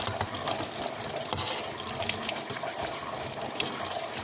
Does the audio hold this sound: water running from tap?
yes